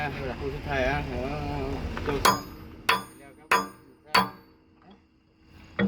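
Hammer blows on metal while fitting pins into backhoe bucket teeth: someone talks first, then four loud, sharp, ringing strikes land about half a second apart, with another at the very end.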